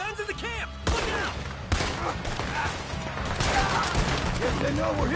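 Bursts of video game gunfire erupt over a camp in a loud, dense fusillade, with shouting voices and chaotic battle noise layered on top throughout.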